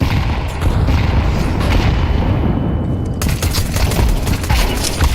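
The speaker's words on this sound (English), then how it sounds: "Grenade. Grenade out." A grenade goes off in a video game firefight amid a dense, loud wall of booming blasts and rattling gunfire, steady and unbroken throughout, with a sharper crackling burst partway through.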